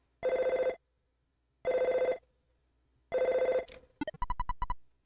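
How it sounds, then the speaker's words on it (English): Telephone ringing in the video game Earthbound: three loud, evenly spaced electronic rings, each about half a second long, followed by a quick burst of short chime-like blips, with no talking over it. "Oh, phone call."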